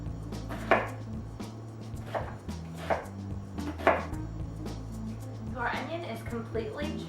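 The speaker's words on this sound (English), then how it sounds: "I'm going to chop 1 white onion, large" A knife chops a large white onion on a board: four slow, separate thuds, then a quicker cluster of cuts near the end, with a voice talking underneath.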